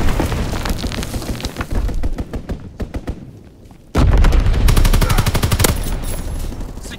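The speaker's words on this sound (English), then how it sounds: "Low altitude bomber inbound. Dropping incendiary." In Call of Duty: WWII, an incendiary bombing run rains down as loud machine-gun bursts and heavy booming impacts, which briefly thin out and then return with a sudden, powerful wall of rapid fire and explosions.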